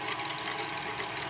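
An electric mixer runs at a low, steady speed while whipping cream in a bowl, giving a continuous close motor whir with no talk over it.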